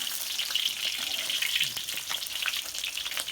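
Fish sizzles steadily in hot oil, a dense crackling hiss that holds an even level throughout with no voices.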